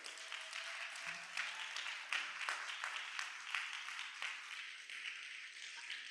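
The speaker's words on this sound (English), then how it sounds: "let's give Eric a round of applause" A small lunch-and-learn audience claps for a lecturer on plastic pollution, a modest, fairly quiet run of individual claps that carries on steadily without voices.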